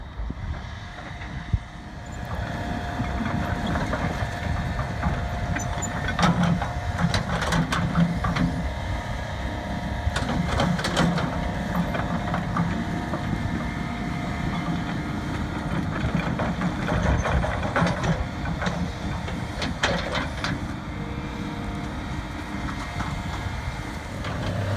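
A Doosan DX 180 LC excavator runs near Pocklington, its diesel engine a steady rumble with intermittent clanks and scraping as it shifts debris and old tree material.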